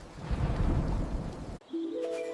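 A thunderstorm with rain pours steadily on a surface, swelling loudly and continuously with deep rumbling before cutting off abruptly, followed by a quieter ambient stretch.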